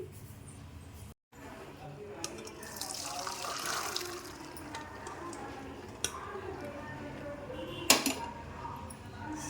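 Cooking water is strained from a pressure cooker after soaking and boiling lentils, giving soft splashing and running water near the mic with occasional metallic clinks and taps from the utensils.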